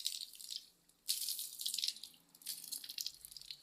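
Children splash and play with water outdoors, bursts of splashing and trickling in three uneven waves, fairly faint and close, with no voices.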